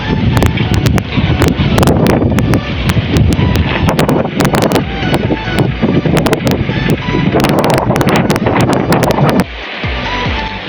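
Strong gusting wind buffets the microphone in loud, continuous roaring waves, with rattling and flapping bursts throughout, easing slightly at the end.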